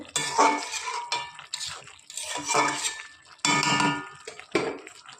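A metal spatula scrapes and clinks against a pan in several separate bursts as pumpkin greens and soft potato are stirred and sautéed at home, close and fairly loud, with no talking.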